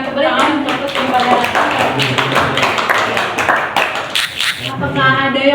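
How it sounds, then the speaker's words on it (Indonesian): Students in a classroom clap in a short, uneven burst of hand claps, close and fairly loud, with voices talking before and after and occasional taps mixed in. "Saya boleh berikan tepuk tangan untuk kepada"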